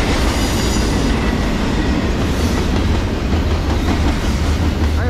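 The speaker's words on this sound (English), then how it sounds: "Train 24X, Norfolk Southern." A long Norfolk Southern freight train, train 24X with 256 axles, rolls past close by with a loud, steady roar of wheels and rail noise that fills the whole stretch without a break.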